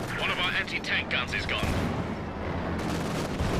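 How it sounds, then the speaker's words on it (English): Artillery barrage from an infantry support gun in Company of Heroes 2, a World War II strategy game: dense rumbling blasts and crackling bursts clustered early, then a sustained low roar under continuous talk. "We've got the ISG putting the barrage on it."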